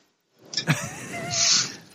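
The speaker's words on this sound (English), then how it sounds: "I think that's the first time I've heard your cat meow." A house cat meows indoors: a short, close vocal call rising and falling over about a second and a half, heard alone in a quiet room.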